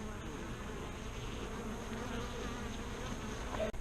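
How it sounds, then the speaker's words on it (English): A steady, dense hum of many honeybees buzzing around an open hive nearby, continuous throughout. "Bees are active today."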